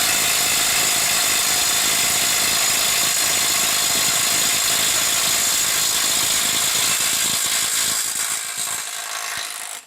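A Milwaukee M12 FUEL stubby 1/2-inch impact wrench hammers loudly and continuously as it tightens a fastener to 600 foot-pounds, a dense rattling buzz that runs for several seconds before cutting off.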